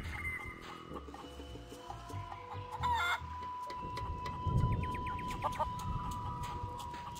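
A chicken in The Curse of Monkey Island clucks and squawks in short bursts over game music and effects, close and clear, with no talking.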